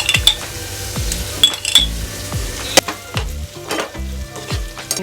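Two spoons of ghee sizzling in a pan while making chicken tikka masala, a loud steady crackle close up with occasional metal clinks of a spoon against the pan.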